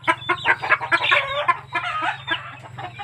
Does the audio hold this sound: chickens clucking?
yes